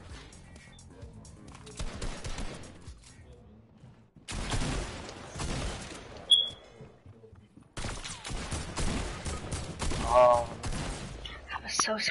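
Video game AK rifle and sniper rifle fire comes in two long, loud stretches of rapid shots with quieter gaps between them, mixed with a few sharp single cracks and faint murmured voices.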